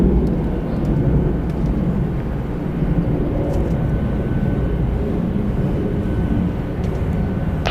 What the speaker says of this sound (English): Departing on the south side, Delta Airlines flight 1099 going to Tampa, Florida.